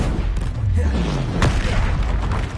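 A Confringo fire spell blasts in the Hogwarts Legacy video game with a loud, rumbling boom and a sharp crack midway, set in continuous dense game noise.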